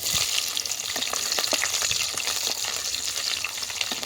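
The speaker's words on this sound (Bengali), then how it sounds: "এবার ক্যাপসিকামগুলো ভেজে নেব" Capsicums frying in hot oil with cinnamon, cloves, cardamom, cumin, bay leaves and dried chillies for navaratna dal, a dense bright sizzle running throughout with faint stirring ticks close by.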